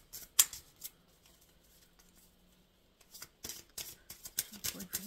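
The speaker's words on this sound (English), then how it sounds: "Shuffling for the collective." Quick papery riffles and taps of tarot cards being shuffled, in short bursts with a quiet pause between, close up.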